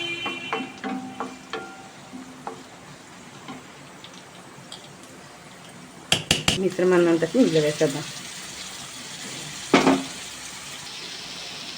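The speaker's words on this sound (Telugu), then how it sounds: "ఆవాలు కాస్త చిటపట్లాడింది అంటే ఈ కరివేపాకు మొత్తాన్ని ఇందులో వేసేద్దాం" Mustard seeds, garlic and curry leaves fry in hot oil in a pan, a soft sizzle that breaks into a burst of sharp crackling and popping partway through, while a person talks over it.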